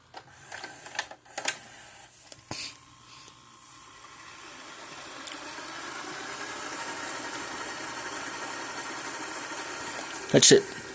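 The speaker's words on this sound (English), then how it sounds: "It's not as fast as my Sharp VCR, but let's hit rewind." A Magnavox DVD-VCR combo rewinds a tape with a steady mechanical whir that builds and holds, preceded by a few button clicks and clunks and ending in a brief louder clatter near the end.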